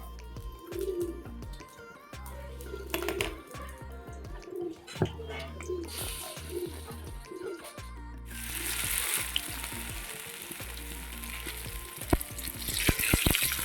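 Bean fritters are frying in hot oil in a wok, a continuous sizzle that swells louder and brighter midway as more batter goes in, with pigeons cooing nearby and scattered utensil clinks.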